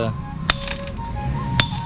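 Two sharp metallic taps of a hammer striking a chisel on stone, about a second apart, over faint background noise.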